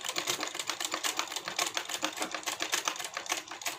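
Domestic sewing machine stitching a blouse, a steady fast run of rapid mechanical clatter from the needle throughout, close and fairly loud, with no voices.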